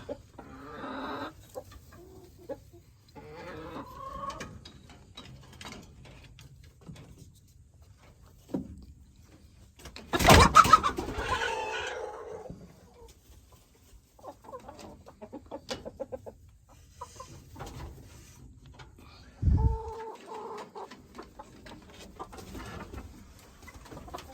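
Chickens cluck and murmur softly nearby, with scattered short calls and a few louder squawks and flaps breaking through the quiet.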